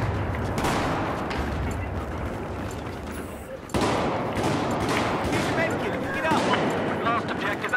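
Dense game gunfire including shotgun blasts rattles continuously through a chaotic multiplayer firefight, loud and close, with a sharp burst near the middle and players talking over the shooting.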